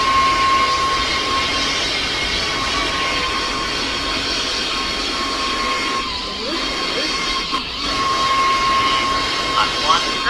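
Jet airliner engines spool up for takeoff in the Roblox flight game PTFS, a loud, steady roar with a high whine that continues throughout, while a person talks over it.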